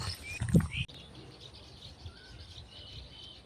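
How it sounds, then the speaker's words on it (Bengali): Birds chirp outdoors beside a roadside patch of wildflowers, with faint, scattered calls over steady ambient noise after a brief louder rustle at the start. "দেখো কত পাখির আওয়াজ কি ভালো লাগছে না"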